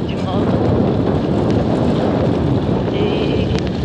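Steady roar of wind buffeting the microphone while riding a motorcycle toward a farm, loud, dense and continuous throughout with little variation.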